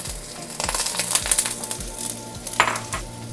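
Seafood and broccoli searing in hot oil for a stir fry, giving a loud, close, continuous crackling sizzle with a few stirring scrapes and no voices.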